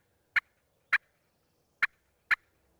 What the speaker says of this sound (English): we had a bird gobbling